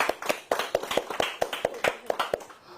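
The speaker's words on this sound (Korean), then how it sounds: "모두 박수." A class of students clapping together, a brisk, uneven run of sharp nearby hand claps lasting a few seconds before cutting off.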